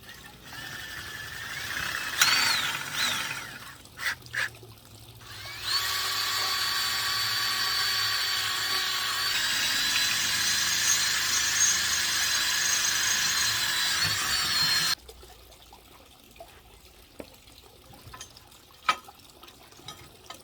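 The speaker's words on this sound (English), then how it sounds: "let's get to doing a little bit of drilling" A power drill whirs steadily for about ten seconds while drilling a stool, loud and close, preceded by short bursts and handling clatter, then stops abruptly leaving quiet workshop noise.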